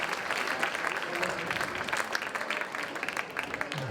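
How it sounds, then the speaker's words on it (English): Steady applause from a stadium crowd fills a track meet's long jump competition, a continuous patter of clapping at moderate distance with faint voices mixed in. "That feels like an end of competition clap"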